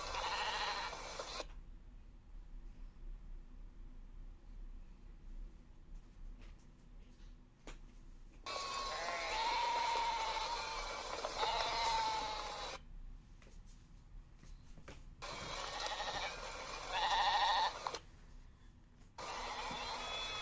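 Sheep bleating in a slaughterhouse setting, several long, wavering calls coming in separate bursts over a constant low background, moderately distant, with no voices.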